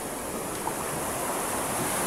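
Ocean surf washing steadily near a gate in a coastal passage, a continuous broadband roar of waves with no distinct breaks, fairly close and alone without voices.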